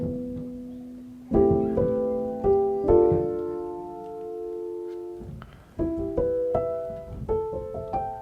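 A chopped lofi piano sample plays a sequence of chords and single notes in Ableton, with an LFO adding a slight wobble to the pitch; the notes come as separate close, mellow hits that each sustain, with no voices.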